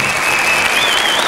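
A German audience at a 2006 Cottbus European Championships pommel horse event applauds a gymnast, dense steady clapping from a large crowd filling the hall.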